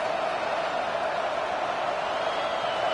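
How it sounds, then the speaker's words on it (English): A Texas Tech Red Raider stadium crowd at a college football game against Baylor roars on third down, a dense, sustained wash of cheering noise that holds steady throughout. "The Red Raider crowd rising to the occasion to help its defense on 3rd down."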